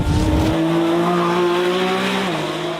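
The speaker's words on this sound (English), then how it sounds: "take you on board the Lamborghini Revuelto, the first V12 plug-in hybrid" A Lamborghini Revuelto V12 plug-in hybrid supercar at speed on a race track at Vallelunga, a loud steady high engine drone from on board with a brief rough burst at the start and a pitch drop near the end.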